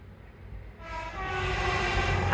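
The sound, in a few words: passing train at Teignmouth seafront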